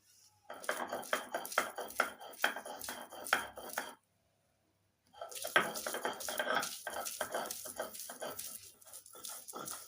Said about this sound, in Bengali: লাউ শাক ঠান্ডা হয়ে গেছে এবার শিলনোড়ে বেটে নিচ্ছি